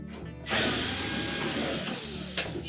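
Power drill backing out screws from the top panel of a Samsung washing machine, whirring loudly and steadily after a short pause, with a brief clunk near the end.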